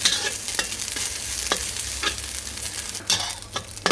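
Shallots sizzle in hot oil in a pan while a utensil stirs and scrapes them in irregular strokes, close and loud with no talking.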